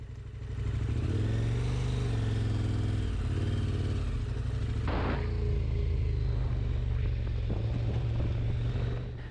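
A KTM 1190 Adventure R motorcycle being ridden on a road, its engine droning steadily and close with low rumbling and shifting pitch, plus a brief rushing burst midway; no talking.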